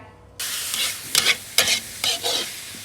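Duck being grilled in a backyard cooking setup sizzles steadily, with several louder crackling bursts of fat spitting over the heat, close by and with no talk.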